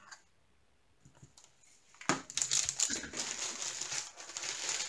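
A plastic bag crinkles while diamond painting supplies are packed. After a quiet start there is a brief rustle, then a sudden burst of loud, continuous crinkling close by, with no talking.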